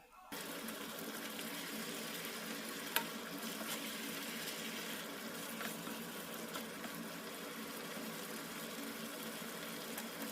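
Salmon pieces hit a hot pan for panang curry and start frying, a sudden onset followed by a steady crackling sizzle with occasional sharper pops.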